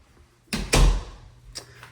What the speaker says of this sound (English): Does have a pocket door for the powder bath.